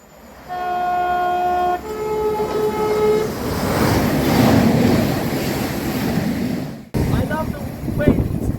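Thameslink train, a cancelled Bedford service running empty, passes loudly through Balcombe station with a rising roar of wheels and wagons and a brief horn tone at the start, then cuts off abruptly into quieter station ambience.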